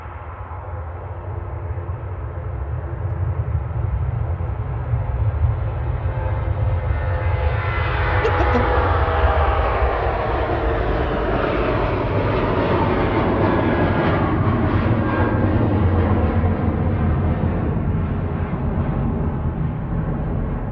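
A Jet2 airliner arriving from Lanzarote goes around at Manchester Airport, its jet engines roaring louder as it climbs and passes, with a rising then sustained whine over a broad rumble.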